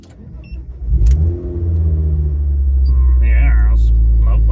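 A Ford Focus ST225 engine cranks briefly and catches, then settles into a loud, steady low rumble close by, with a voice speaking over the running engine.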